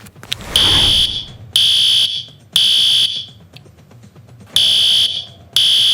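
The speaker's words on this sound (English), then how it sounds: "can't you hear the fire alarm?" A fire alarm in a school building sounds in loud, piercing electronic blasts, about five evenly spaced pulses roughly a second long with short gaps between, close and with no speech.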